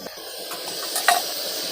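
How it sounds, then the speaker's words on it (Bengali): Mangoes from a home tree boil in a pot for pickle, giving a soft, steady bubbling hiss with a brief clink near the end. "ফুটছে, আর একটু হয়ে যাক সিদ্ধ"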